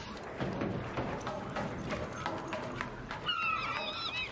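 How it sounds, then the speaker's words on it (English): Geese honk in the video game Crimson Desert, several nasal calls overlapping near the end over soft footsteps and thuds, faint and fairly distant. "Birds."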